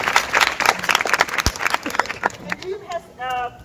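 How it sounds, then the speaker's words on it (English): Audience applause at a school awards event for top-ranked students, a dense burst of clapping with crowd voices through most of the clip, fading as a voice and a whistle-like tone take over near the end. "A round of applause."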